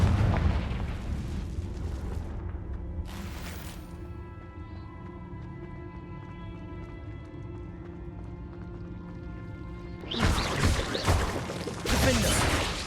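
A Confringo fire spell from the video game Hogwarts Legacy blasts twice near the end, loud bursty explosions following a long stretch of steady ambient game music and rumble.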